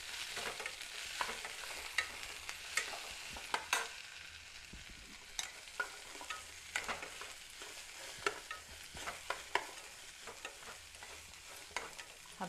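Oil sizzles steadily in a pan with snake gourd, turmeric and salt while a utensil scrapes and stirs at irregular intervals, sharp clicks punctuating the frying hiss.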